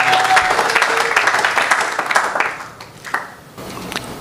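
A church congregation at a Sunday service applauds together in acclaim of the Lord, a dense, loud wash of clapping that thins and fades toward the end.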